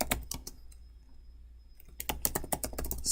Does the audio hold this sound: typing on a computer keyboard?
yes